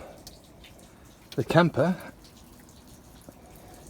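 Rainwater leaks through the roof vent of a camper stored flat in heavy rain, dripping in faint, scattered drops around a short spoken phrase.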